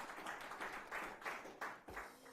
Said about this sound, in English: Please, a round of applause for yourself.